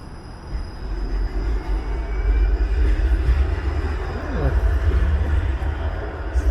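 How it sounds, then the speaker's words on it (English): A 504 King streetcar passes along a Toronto street in midwinter, its heavy rumble swelling as it nears, with faint steel-wheel squeal and hum over the low rolling noise. "504 King streetcar."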